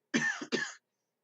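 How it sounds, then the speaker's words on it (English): Two quick coughs, close and fairly quiet, the second following right after the first, with silence afterward. "If you're done coughing up,"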